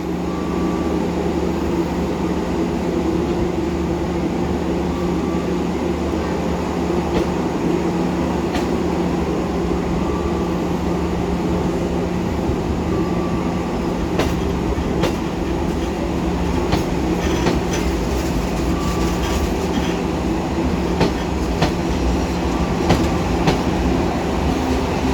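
The Pandanwangi train bound for Jember departs Kalibaru station, a loud steady rumble of rolling railcars with a sustained low drone, faint wheel clicks and occasional metallic squeals over about twenty-five seconds.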